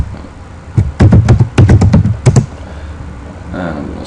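Keys clatter on a computer keyboard in a quick burst of close, loud taps, then a short gap and a faint voice at the end.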